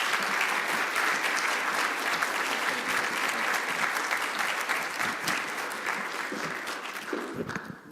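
Sustained applause from an audience welcoming a chairman at a Capitol Hill event, a dense, steady clatter of clapping hands that carries on for several seconds before thinning out near the end.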